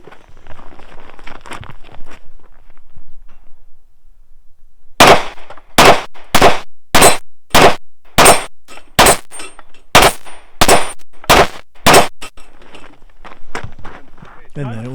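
Pistol shots ring out at a practical shooting match stage in snowy conditions, about twelve loud sharp cracks in a steady rapid string, after a stretch of quieter movement.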